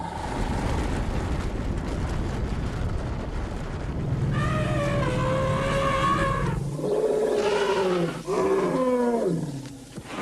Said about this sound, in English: Elephants have more than 25 different calls, blasting air out of their enormous lungs and channeling it through the trunk